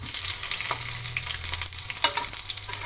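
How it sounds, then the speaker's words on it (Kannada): Onion, mustard seeds and curry leaves fry in hot oil for an egg sambar tempering, giving a loud, steady close-up sizzle with crackling spatters throughout and no talking. "ಚೆನ್ನಾಗಿ ಫ್ರೈ ಆಗಬೇಕು. ಈರುಳ್ಳಿ ಎಲ್ಲ ಚೆನ್ನಾಗಿ ಬಾಡಬೇಕು."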